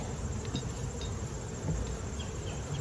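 Dense, steady buzzing from many honeybees on a hive frame close by, a continuous low drone with occasional brief individual buzzes rising above it.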